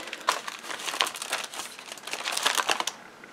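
A paper envelope being folded for a handmade journal crinkles and rustles in a steady run of close, crisp crackles for about three seconds, then stops, with nobody speaking.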